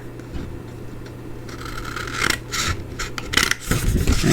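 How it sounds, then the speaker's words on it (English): Scissors snip through card stock up to the score lines, a series of short crisp cuts and papery rasps close by, growing busier toward the end. "we're going to snip up just to the score lines"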